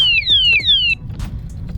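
A Loc-R-Bar lock alarm on a bass boat blares close and loud, two shrill descending electronic whoops sweeping back to back, then cutting off into low background rumble.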